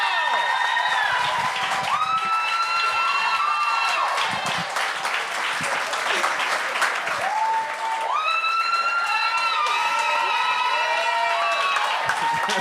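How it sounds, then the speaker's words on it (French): A theatre audience at a televised amateur talent gong show breaks into sustained, loud applause with cheering and whistles, dense and continuous throughout, with voices mixed into the crowd noise. "les meilleurs applaudissements"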